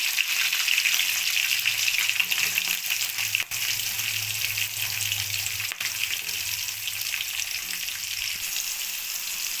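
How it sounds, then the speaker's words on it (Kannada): Capsicum sizzles steadily in an oily pan, a loud constant crackling fry with a couple of faint knocks from stirring, no voices. "ಚೆನ್ನಾಗಿ ಫ್ರೈ ಮಾಡೋಣ. ಅದಕ್ಕೆ ನಾನು ಇವಾಗ ಕ್ಯಾಪ್ಸಿಕಮ್ ಹಾಕೊತಾ ಇದ್ದೀನಿ."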